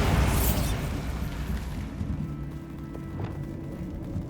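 A Bombarda blasting spell cast in Hogwarts Legacy: a heavy explosive boom at the start that rolls and rumbles away into lingering low debris noise, with a faint crackle later.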